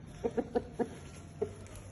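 A chicken clucks in a short run of four quick soft clucks, then one more after a pause, close by over a faint steady hum.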